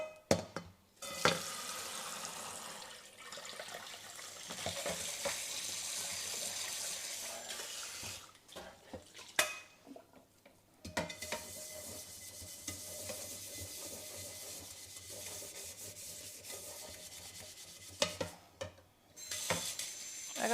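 Steady sizzling and frying from a small pan, with water-like hissing and brief clinks and stirring noises over about twenty seconds, close up.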